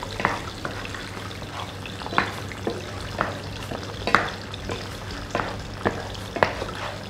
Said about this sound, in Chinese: 我哋要好快速咁樣攪勻佢，等佢就唔好去太老啦。